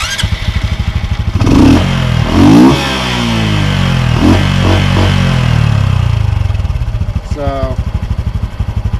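A Honda Super Cub motorcycle with a throatier-than-stock intake fires up after a brief word, then revs in several rising and falling bursts of angry, buzzy engine noise, close and loud, before settling toward idle.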